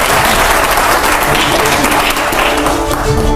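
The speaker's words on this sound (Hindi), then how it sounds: "पहले जोरदार तालियां हो" Loud, thick applause from a studio audience at a televised Indian political debate show, continuous and close for a few seconds.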